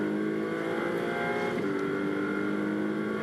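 Ferrari Challenge race car circulating the Spielberg circuit in Austria during qualifying, a steady sustained engine drone with strong harmonic tones and a slight pitch shift midway, loud and continuous with no voices.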